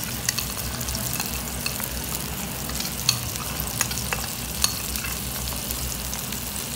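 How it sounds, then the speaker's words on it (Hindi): Spiced yogurt masala being stirred into an egg kofta curry in a pan, with a steady low bubbling simmer and occasional soft spoon scrapes and clinks, close and moderately quiet, with no talking. "ये जो मैंने दही के अंदर सारे मसाले मिक्स करके रख लिए थे वो मैंने अब इसके अंदर डाल दिए।"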